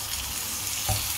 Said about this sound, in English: The oil is pretty hot right now and you can hear the sizzle.